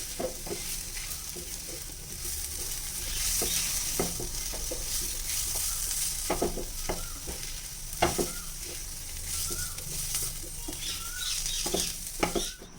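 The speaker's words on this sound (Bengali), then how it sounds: "পেঁয়াজের সাথে বেসনটা ভালো করে আমি মিশিয়ে নেব।" Gram flour stirred into onions frying in oil for an onion kachori filling: a steady, close sizzle broken by repeated scraping strokes of a spoon against the pan, with no voices.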